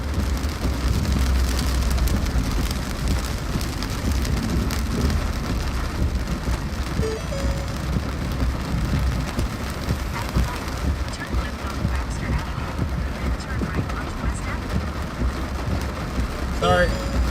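Steady broadband wind and rain noise roars throughout, a gusty storm building close by in upstate New York with low rumbling, with no clear speech.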